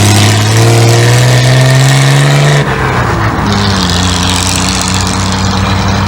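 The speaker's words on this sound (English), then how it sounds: "Blue Rocket has 150 bhp with a fuel injection engine." A fuel-injected 150 bhp 1970s Triumph TR6 sports car accelerates hard on an open road, its engine close and loud as it revs up, then drops at a gear change into a steady, strong drone.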